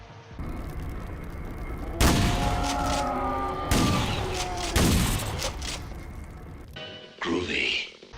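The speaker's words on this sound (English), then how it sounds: "let's test out the Turok shotgun" Turok shotgun firing in Half-Life 2, three loud booming blasts in close succession, each with a long rumbling tail, then a brief burst of other game noise.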